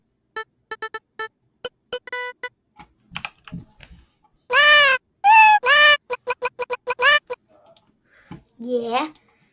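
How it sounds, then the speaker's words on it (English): Scratch's built-in cat meow effect plays as a few short tonal mews amid a patter of computer keyboard and mouse clicks. "Play sound meow until done"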